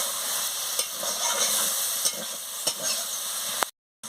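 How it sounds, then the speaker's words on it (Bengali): Banana flower and potato curry, seasoned with salt and sugar, fries in a pan with a steady hiss and sizzle. A few faint clicks of stirring come through before the sound cuts off abruptly at the end. "দিয়ে ভালো করে কষিয়ে নিচ্ছি"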